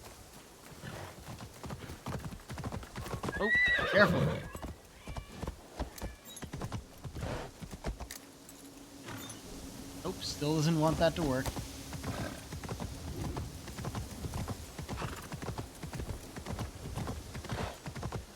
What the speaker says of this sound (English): Call the horse back.